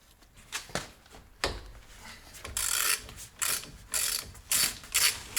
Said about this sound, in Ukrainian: Далі відкручу ступічний болт.